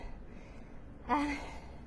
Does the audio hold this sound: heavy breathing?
yes